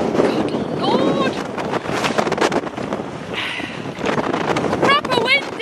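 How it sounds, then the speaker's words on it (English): Strong wind gusts over a mountain in Snowdonia, North Wales, roaring and buffeting the microphone in uneven surges, with brief chirping and some vocal sounds mixed in. "Proper windy."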